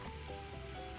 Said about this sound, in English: We're gonna saute this over medium heat for about 2 minutes.